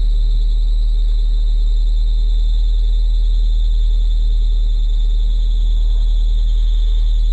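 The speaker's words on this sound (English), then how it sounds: "There's a belt squealing." A steady, high-pitched belt squeal whines continuously over the constant low rumble of a running Miata engine, with no talking.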